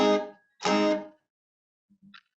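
Two quick strummed guitar barre chord upstroke vamps, each cut short and muted, followed by a couple of faint muted clicks.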